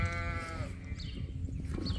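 Sheep and a ewe lamb bleat on a farm, a clear drawn-out bleat up close followed by softer overlapping calls and bleats from the flock, with no talking.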